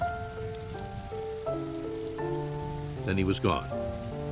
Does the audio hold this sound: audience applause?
no